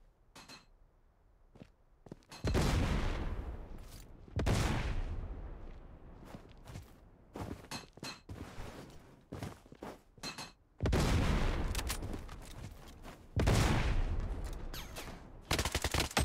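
Gunfire in the Blood Strike video game comes in several loud, close bursts of automatic fire. Quieter shots and clinks fill the gaps between bursts.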